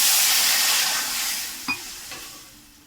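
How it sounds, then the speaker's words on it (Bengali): Water poured into a pan of mung dal fried in oil, giving a loud burst of hissing steam and sizzle that fades over a few seconds, with a small clink partway through, no voices. "মুগ ডাল ভাজা হয়ে গেছে, জল দেবো।"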